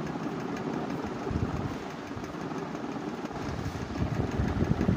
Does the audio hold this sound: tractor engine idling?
yes